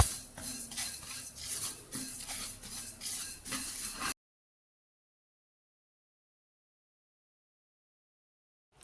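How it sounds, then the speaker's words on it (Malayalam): Sesame seeds roast over a low flame in a thick pan, with a spoon scraping and clinking against the metal in a steady stirring rhythm for a few seconds before the sound stops abruptly. "ഇപ്പം എള്ളൊക്കെ വറവ് നല്ല പാകമായിട്ടുണ്ട്."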